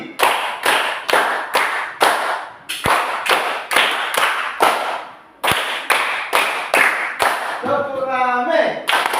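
A classroom group claps hands in a counted pattern, sharp loud claps in short evenly spaced bursts with brief pauses between sets, and a voice speaking over the last stretch.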